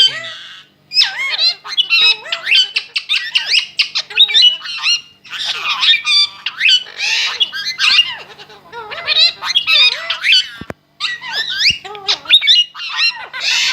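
An Indian Ringneck or Pahari parrot vocalizes up close in a talking competition, giving loud, shrill squawks and warbling, chattering calls in repeated bursts with brief pauses.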